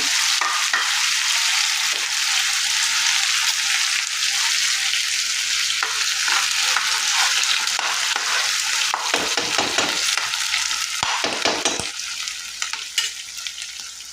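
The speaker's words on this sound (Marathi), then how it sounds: "आता मी ही जी ल कांदा आणि टॅमॅटोची पेस्ट बनवलेली आहे ती आता टाकते आहे" Onion and tomato paste added to whole spices and cumin frying in a pan, a loud, dense, continuous close sizzle with occasional stirring scrapes, easing slightly toward the end.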